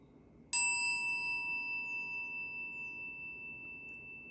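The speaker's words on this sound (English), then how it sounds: "I'm going to strike a bell and please listen." A single bell struck once during a mindfulness practice session, a clear bright ring with a sharp onset that sustains and slowly fades over several seconds, alone in a quiet room.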